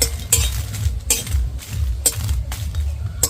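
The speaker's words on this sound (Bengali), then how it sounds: "শুকনো লঙ্কা হালকা একটু নেড়ে নিয়েছি" Dried red chillies dry-roasted in an empty wok, stirred with a spatula in repeated scraping strokes, metal clinks at roughly half-second intervals, close and clear with no talking.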